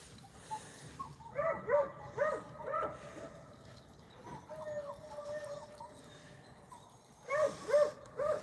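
Beagles hunting rabbits give intermittent yelps and bays in a few short bursts from a moderate distance, with quiet outdoor pauses between, and someone speaks briefly now and then.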